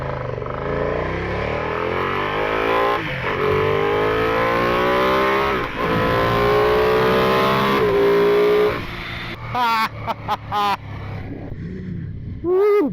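A 2021 Ducati Panigale V2 sport motorcycle in race mode accelerates hard, its engine note climbing in pitch through several gear shifts before the roar cuts into choppy bursts and wind near the end.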